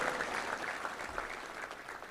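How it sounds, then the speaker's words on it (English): An audience at a Little Rock Touchdown Club luncheon applauds young football players, a steady wash of clapping from a room full of people, moderately loud and continuous throughout. "Let's give them a round of applause."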